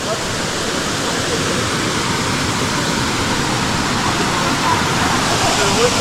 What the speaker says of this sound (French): c'est une cascade qui est très connue